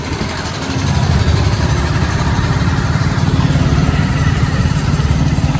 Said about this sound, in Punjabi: ਕਿੰਨਾ ਨੇ ਮੋਟਰਸਾਈਕਲ ਦੀ ਪਹਿਲੀ ਟਰਾਈ